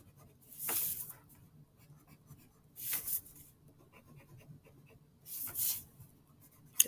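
A pencil sketches a quick drawing of Charlie Brown's Christmas tree, with three separate bursts of scratchy strokes against quiet close room tone.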